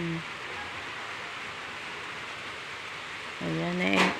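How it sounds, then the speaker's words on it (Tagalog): Steady hiss of rain fills the clip, broad and even, with a brief voice cutting in near the end. "Ulan naman. Ulan."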